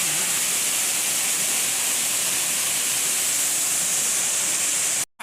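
Mukhipata waterfall in Kalahandi, a steady broad rush of falling water, dense and even, ending abruptly, with no voices.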